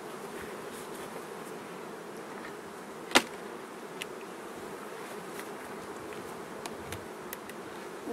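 Honey bees at an apiary hive buzz in a steady, dense drone that stays even and close throughout, with a sharp click in the middle and a few faint ticks.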